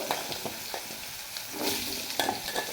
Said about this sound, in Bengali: আমি ওই কড়ার তেলেতে এই আলুগুলো এবার মাখিয়ে নেবো, ভেজে নেবো